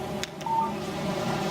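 A phone text message alert from the Alan Wake video game plays as a short electronic tone with a brief beeping blip, heard over a constant low ambient hum.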